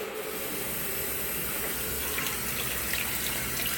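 A washing machine on a cold wash cycle with deep fill selected, water gushing steadily into the drum with a constant hissing rush, close and even throughout.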